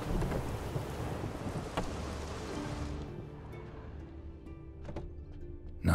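Heavy rain pours with a low rumble of thunder in The Witcher 3, a dense wash of falling water that eases partway through, leaving a softer patter with faint distant crackles.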